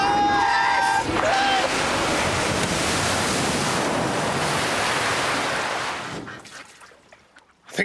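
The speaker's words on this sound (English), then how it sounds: "I'm driving straight down the middle of a river." Boat travelling down the middle of a river, engine and water rush merged into a loud, continuous roar with wind buffeting the microphone, dropping away abruptly near the end.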